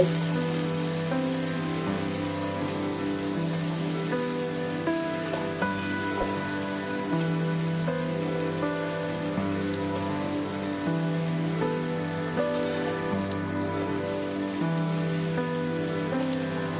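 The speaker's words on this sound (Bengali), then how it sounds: "ফোড়নের সাথে শাকটাকে আমি ভেজে নিব" Bottle gourd shoots fry with spice tempering in a pan, a steady close sizzle like rain that holds for about seventeen seconds, with faint tonal sounds running beneath it.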